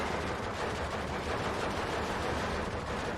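Dense, continuous automatic gunfire crackles through a wartime battle in Steel Division 2, with an MG42 machine gun among the steady din and no talk.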